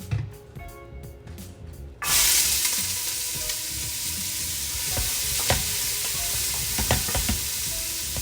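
Chopped onion hits hot olive oil in a pan and erupts into a loud, steady sizzle that continues throughout, with occasional sharp crackles and pops, following a brief quieter stretch of faint kitchen handling.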